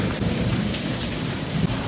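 Heavy monsoon downpour in Anand district pours steadily and loudly, a dense unbroken hiss of rain with low thunder rumbling underneath throughout, and no voices.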